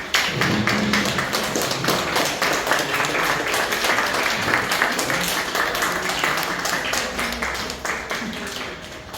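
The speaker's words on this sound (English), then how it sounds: "give a round of special applause to all those who finished their ice-breaking speech" Meeting audience clapping for members who finished their icebreaker speeches, a long, dense round of applause with sharp individual claps, steady and fairly near, tapering slightly toward the end.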